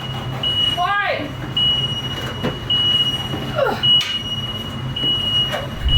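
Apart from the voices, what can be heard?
new Ford Transit van warning beeping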